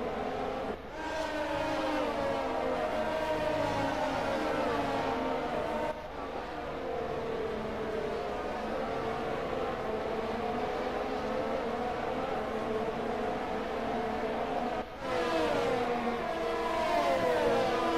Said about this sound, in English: The McLaren sounds absolute sweet.